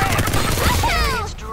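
Rapid gunfire in the Farlight 84 shooter game, a dense burst of shots lasting over a second before trailing off, loud and close, with a voice talking over it.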